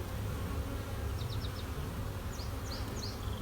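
Bees buzz around a nucleus hive box in a steady, close drone, with a few individual insects whining past at higher pitch over a low outdoor background; no one speaks.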